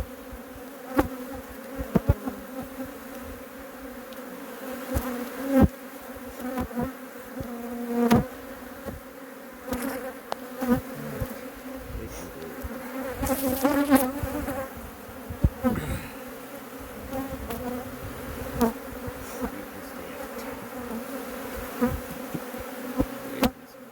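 Honeybees drone steadily in a disturbed hive colony being worked with smoke, a close, continuous buzz with scattered sharp knocks and handling sounds throughout.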